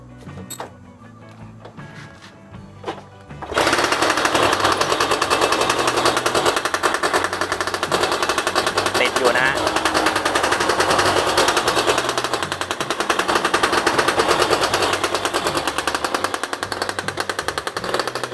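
A motorcycle, a Honda NSR or similar two-stroke street bike with a loud exhaust, starts after a quiet moment and then idles and revs steadily with a harsh, rattling buzz close by.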